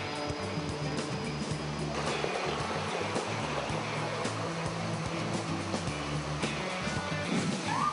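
Water flowing at Linaw Kipot Binugsukan Falls, a steady broadband rush heard up close and moderately loud, continuous with no voices.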